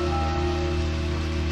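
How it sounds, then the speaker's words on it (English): Stormy rain in the Deadly Premonition Origins video game hisses as a steady, even wash of noise over a constant low hum, with no talking. "Oh, it's storming out."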